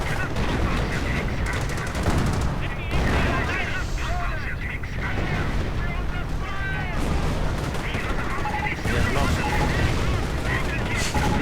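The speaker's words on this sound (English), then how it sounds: "Anti-tank gun coming under heavy fire, but the assault guns just keep pressing on." Gunfire and artillery from a WWII strategy video game battle, with an anti-tank gun under heavy fire and assault guns advancing; dense, continuous explosions and shots fill the whole stretch, mixed with game voices.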